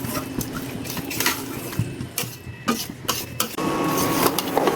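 Rice is fried with meat in a pot while cooking biryani, a busy run of metal scraping and clanking from a spoon against the pot over a low sizzle, close and fairly loud.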